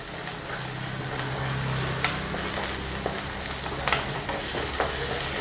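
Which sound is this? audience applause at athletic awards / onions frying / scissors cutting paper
onions frying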